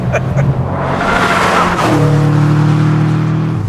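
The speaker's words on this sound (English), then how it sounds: "the STI wastes no time in getting through the revs" A Subaru WRX STI engine revs hard and climbs quickly through the rev range, loud and close, with a steady rising drone and some tire noise.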